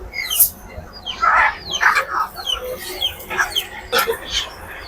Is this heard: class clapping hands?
no